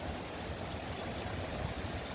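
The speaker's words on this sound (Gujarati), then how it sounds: "નહીં આ તો ધોધમાર વરસી રહ્યા છે જો ફૂલ વરસાદ ચાલુ થઈ ગયો" A heavy downpour of rain gives a constant, fairly faint wash of noise with no voices and no breaks.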